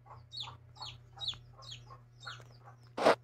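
Mother hen clucking with her chicks, a series of about six soft, evenly paced clucks close by over a low background hum, ending in a sharper, louder burst.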